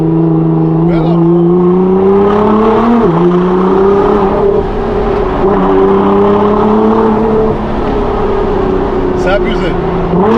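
A 1,500-horsepower Nissan GT-R holding a loud, steady, high engine drone that dips briefly and climbs again, close by, with voices talking over it.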